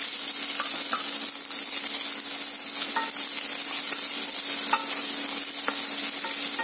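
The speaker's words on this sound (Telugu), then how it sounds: "నెక్స్ట్ వెంటనే ఊరికే అలా తిప్పేసేసుకొని వెంటనే ఆనియన్స్ నిదానంగా వేసుకోండి" Garlic and onions sizzle steadily in a hot pan while being stirred, with scraping stirs ringing out at intervals over a continuous, close frying hiss.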